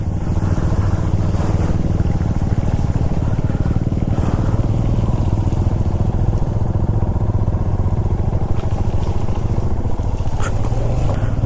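Royal Enfield motorcycle ridden slowly in first gear on the Tabo to Kaza road in Spiti, engine thumping steadily and loudly throughout with faint clatter, no talking.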